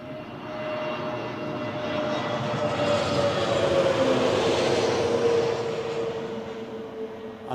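Eurowings airliner with a special Europe livery sticker at Newcastle airport, a steady jet engine roar that swells and then fades as it passes at moderate distance.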